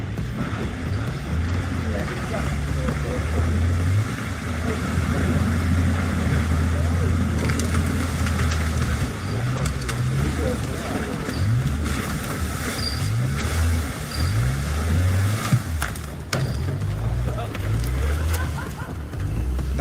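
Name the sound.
off-road vehicle engine running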